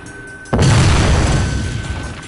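A boomstick explosion in the video game Jak 2 hits as a sudden loud boom after a quiet lead-in, followed by a long rumbling roar that slowly fades.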